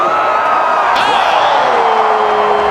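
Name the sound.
crowd cheering at snowboard superpipe competition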